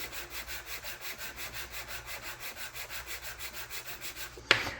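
A wooden part of a Norwegian sailing pram model is sanded by hand in fast, even back-and-forth rasping strokes, close and steady, ending in a brief sharp knock.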